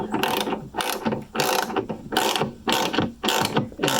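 Repeated ratcheting strokes from tightening a bolt that pulls a wooden nut up into place while rigging a deck, about six loud, close bursts in a steady rhythm with no talk.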